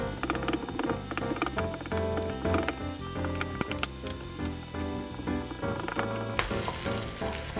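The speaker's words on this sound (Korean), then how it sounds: "한 덩어리로 굳어버린 찬밥을 넣어 볶아줍니다." Egg and cold clumped rice stir-fried in a pan with scallion oil, a busy crackling sizzle with repeated spatula taps and scrapes, over background music.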